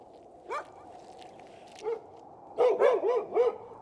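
Stray dogs barking in the Spiti landscape of the Himalayas: a single bark, another lone bark, then a quick run of several barks, fairly close and standing out against a quiet, steady outdoor background.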